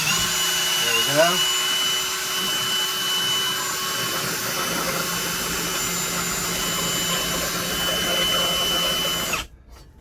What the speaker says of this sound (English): I'm just using this drill pump into an empty container here that I pump the old oil into